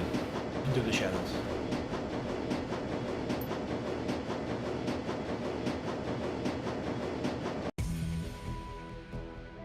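A subway-style train in the video game Shadowrun: Dragonfall lurches forward and picks up speed beneath Berlin, rhythmic clickety-clack pulses rumbling steadily for several seconds before an abrupt cut to a quieter tone.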